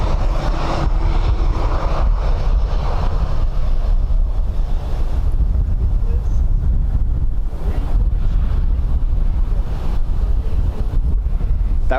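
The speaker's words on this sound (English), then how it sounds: "That wind sounds like in front of our severe weather coming from Virginia" Strong wind blowing at Dublin Airport, a loud continuous roar and buffeting on the microphone that holds steady throughout, with surging gusts and no voices.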